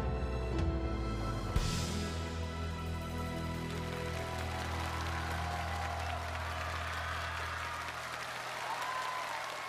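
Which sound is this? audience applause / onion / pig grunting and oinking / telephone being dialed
audience applause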